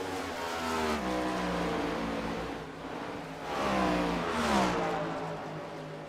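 Stock car engines roar through a race at the Autism Speaks 200, loud and sustained, with rising and falling revs as cars surge and pass close by.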